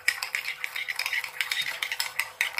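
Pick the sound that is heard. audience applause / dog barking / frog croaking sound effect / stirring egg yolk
stirring egg yolk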